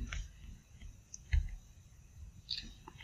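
A computer mouse clicks on a download link on a laptop, giving a few faint, sharp, isolated clicks spread out over quiet room tone.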